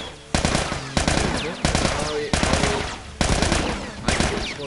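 Bursts of automatic gunfire in The Last of Us during a combat encounter come in loud, clipped volleys of rapid shots separated by brief pauses, sharp and close.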